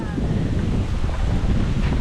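Steady wind buffets the microphone on a mountain trail on Mt Pinatubo, making a constant low rumbling roar with no pauses.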